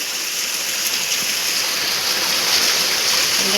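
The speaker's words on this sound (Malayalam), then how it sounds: "ഇപ്പോഴും ഭയങ്കര മഴയാണ്, കാറ്റും മഴയും" Heavy rain with strong wind on a stormy evening at a village home, a steady, dense, close roar of falling water that holds at an even level throughout, with no voices.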